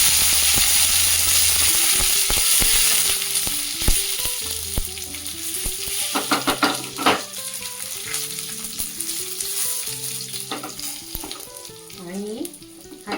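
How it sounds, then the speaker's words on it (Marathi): Mustard seeds, cumin and a pinch of asafoetida hit hot oil for a tempering, giving a loud crackling sizzle with sharp popping seeds and the scrape and clatter of stirring in the pan. "तेल तापल्यानंतर थोडीशी मोहरी टाकते, जिरे, थोडंसं हिंग"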